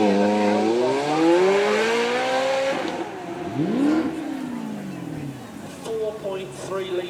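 A 4.3-litre V8 supercar of nearly 500 horsepower revs up and pulls past at a supercar weekend, its loud engine note rising and falling in pitch with crowd noise and a voice talking over it.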